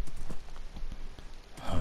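Horse hooves clop at a walking pace in a video game, soft rhythmic thuds at moderate distance with a faint voice in the background.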